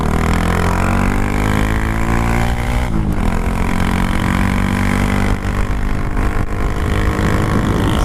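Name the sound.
Honda Grom motorcycle with 17-tooth sprocket accelerating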